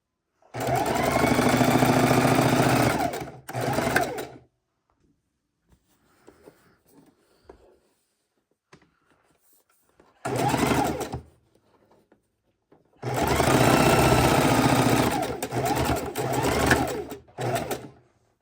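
A sewing machine stitches triangle border pieces together in three loud, close bursts of steady motor whir and needle rattle, with quiet pauses between runs.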